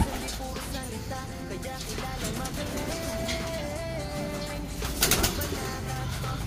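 Pigeons, racing birds kept in a loft, coo softly amid a busy, noisy background with rustling and a brief louder burst near the end, and no clear speech over it.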